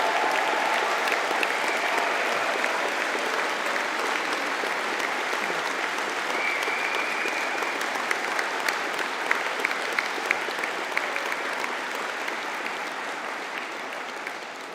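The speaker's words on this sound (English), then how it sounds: "Could we have a collective cheer and clap for the graduates from the Faculty of Engineering and Technology?" An audience at a university conferring ceremony for the Faculty of Engineering and Technology claps and cheers for graduates in a long, steady, dense ovation that fills the hall and fades slightly at the end.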